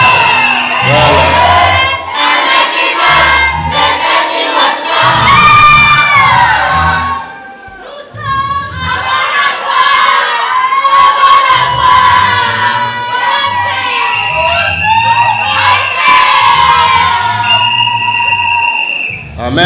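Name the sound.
church congregation shouting cries of joy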